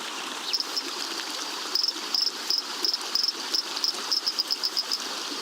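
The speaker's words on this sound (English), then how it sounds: "With a chorus of croaks to alert female onlookers" Male dancing frogs call in a chorus of short, high, clicking croaks, repeated in quick irregular bursts that grow more frequent toward the end, heard over a soft steady background hiss of flowing water.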